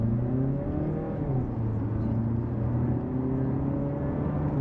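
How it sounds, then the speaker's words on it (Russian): A Mazda CX-5 with a six-speed automatic accelerates, its engine hum rising and falling in pitch under a steady road whir, heard from the cabin with no talking. "Вот попробуем ускориться."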